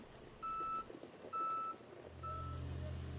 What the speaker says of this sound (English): Even though the backup alarm is sounding, you still need to look behind you before and while backing up.